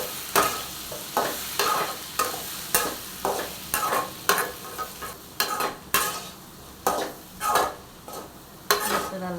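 A carrot, bean and egg stir-fry is stirred in a pan. A utensil scrapes and stirs in repeated strokes over a soft sizzle, close and steady.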